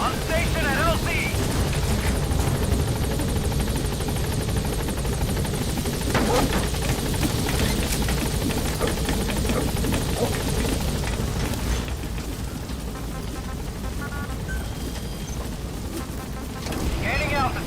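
A helicopter in Metal Gear Solid V: The Phantom Pain arrives at a landing zone, its rotor producing a loud, steady, unbroken drone that dips slightly in the later seconds, with a radio voice underneath.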